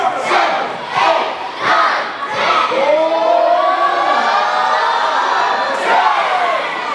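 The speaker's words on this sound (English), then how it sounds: "This crowd counting along." A professional wrestling event crowd chanting a count together as punches land: loud, massed voices rising in rhythmic shouts, blending into continuous cheering close around.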